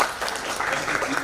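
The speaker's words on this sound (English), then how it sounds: "I think we can give another round of applause." A brief burst of audience clapping at the Tanzania Health Summit 2022, a dense, steady patter of many hands filling the room for just over a second.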